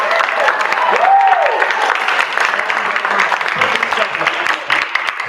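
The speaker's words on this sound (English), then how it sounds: "please give a round of applause to Nakatala" An audience at a noontime show with guest artist Big Nazo breaks into steady, dense applause that runs the whole time, with a brief whistle or cheer rising near the start and voices mixed into the crowd noise.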